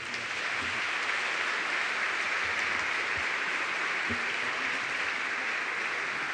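Sustained applause from an audience at a school's twentieth-anniversary academic ceremony, dense, even clapping that fills the whole stretch without pause.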